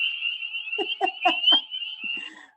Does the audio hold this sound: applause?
no